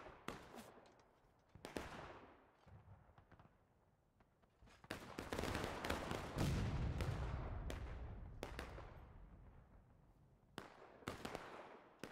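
Artillery cannon fire in the Civil War video game War of Rights: several heavy booming blasts with long rolling echoes spaced across the stretch, plus sharper distant musket cracks, loud and with no talking.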